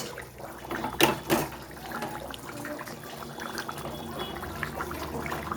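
Pieces of fried fish drop into a boiling fish curry broth with potatoes, giving two quick splashes near the start, followed by a steady bubbling simmer and no talk.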